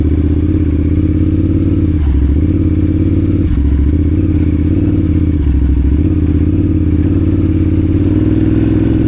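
An adventure motorcycle stuck in a snow rut gets small bursts of throttle: a loud, close, continuous engine drone that dips and surges as the rider rocks it forward and back.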